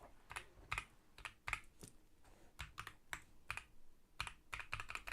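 Rapid clicks from an RGB gaming keyboard with per-key lighting effects, shown as a peripheral at Computex 2024. Bursts of close keypresses come in uneven rhythmic clusters with short pauses between them, and nobody is speaking.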